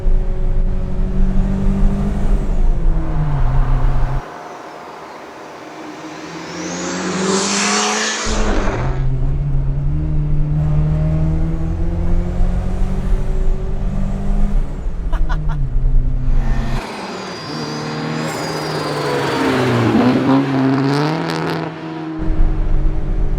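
A turbocharged 1974 BMW 2002 with a hot-rodded M3 engine pulls hard through the gears, revs climbing and dropping between shifts, loud and close from inside the car.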